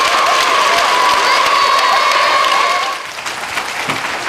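A large crowd in North Korea applauds and cheers loudly and continuously at a national youth football tournament, the roar easing slightly toward the end.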